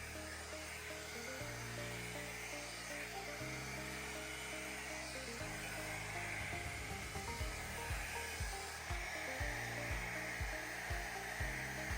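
A hot air brush hair dryer styling hair blows steadily and loudly throughout, its motor pitch shifting in steps as settings change, with no talking.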